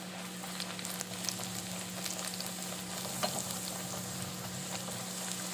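Aloo poori, a stuffed potato flatbread, frying in hot oil in a kitchen: a steady, fairly quiet bubbling sizzle with small crackles, under a faint constant hum, no voices.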